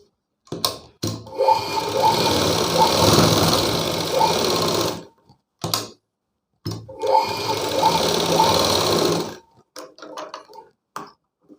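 Stitching a blouse shoulder seam, a sewing machine runs in two loud close bursts split by a short pause, followed by a few faint clicks.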